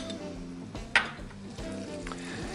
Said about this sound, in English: We're going to start off with another tablespoon of butter